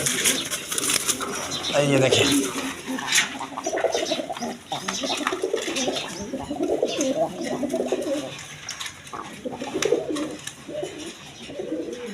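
Pigeons at a seller's stock coo and murmur nearby in soft, repeated rolling calls, with someone talking over them throughout.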